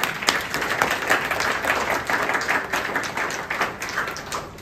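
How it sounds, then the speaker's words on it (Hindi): Renewed audience applause at a Republic Day free health checkup event at a wellness centre, dense and fairly loud clapping from a crowd for several seconds, sustained without talk. "उनके लिए ताली नहीं बजा रहे आप, दोबारा बजाओ"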